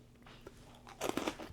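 Close, crisp crunching as freeze-dried pears are bitten and chewed, a few sharp brittle cracks after a quiet pause, with no talking.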